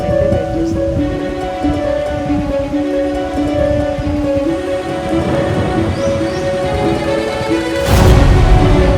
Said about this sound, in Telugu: చూడండి ఎలా వస్తుందో వర్షం అయితే